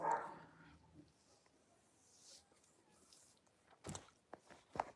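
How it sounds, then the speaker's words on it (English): Dogs barking somewhere distant, a few scattered sharp barks and yips standing out late over a quiet background. "Fucking dogs, honestly."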